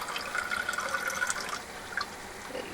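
A full glass of water is poured into a pot of rice aboard a narrowboat, a steady close splashing trickle that runs throughout, with no talk.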